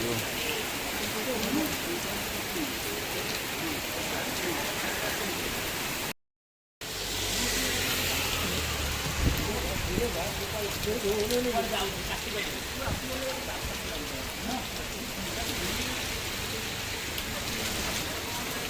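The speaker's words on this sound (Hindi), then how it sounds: "भयंकर वर्षा स्टार्ट हो गला" Heavy monsoon rain pours steadily and loud close by on a road trip between Cuttack and Jharsuguda, a dense unbroken hiss with a brief dropout partway through and faint voices underneath.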